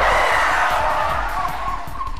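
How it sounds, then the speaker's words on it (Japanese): A taxi brakes suddenly in the video game 428 Shibuya Scramble, giving a loud, close tire skid with engine noise that holds for about two seconds, with no talking. "君塚の運転するタクシーが急ブレーキをかけて止まった。"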